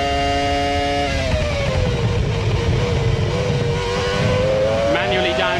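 Onboard a McLaren Formula 1 car at the 2002 Australian Grand Prix, the engine howls loudly and close up, dropping through manual downshifts in clear stepped pitch falls before revving back up under a commentator's voice.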